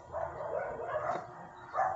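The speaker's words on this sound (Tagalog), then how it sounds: "Aso." Several dogs bark in a loose, overlapping chorus at moderate distance, steady throughout with a louder burst near the end.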